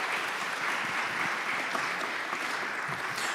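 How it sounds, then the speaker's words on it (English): Applause from an audience at a spring jazz concert in a church hall, a steady, even wash of many hands clapping at moderate distance, sustained throughout without pause. "Give him a round of applause."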